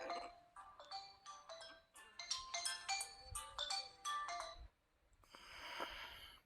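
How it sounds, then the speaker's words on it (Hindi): A mobile phone ringtone goes off in a classroom during a teaching lesson, a bright repeating electronic melody playing loud and near for about five seconds before it stops abruptly. "कौन फोन किया"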